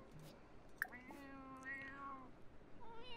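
A cat in The Sims 4 meows several times in quick succession, clear, close and sing-song, with a faint game background behind it.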